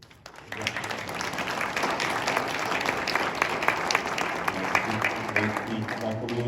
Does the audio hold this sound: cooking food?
no